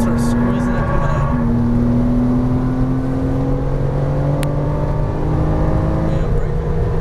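A Porsche Cayman R engine pulling hard under throttle from inside the car on a cone course, a steady loud drone with rising whine, while an instructor talks over it.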